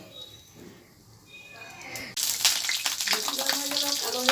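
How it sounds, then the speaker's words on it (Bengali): Dal bori, lentil dumplings, frying in oil in a kadai. A quiet kitchen background suddenly gives way to a loud, dense, crackling sizzle that holds steady to the end. "আস্তে আস্তে ভাজি।"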